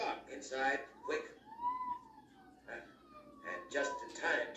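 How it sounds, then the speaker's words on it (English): A police siren wails with rising and falling tones, somewhat distant, while people talk in short bursts over it. "There's a police car not far off."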